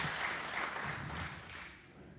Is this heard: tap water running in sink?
no